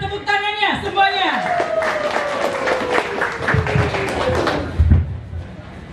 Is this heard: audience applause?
yes